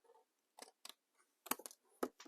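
Scissors snipping through card while making gift card holders and money envelopes, a few sharp separate cuts at close range, faint and with no talking.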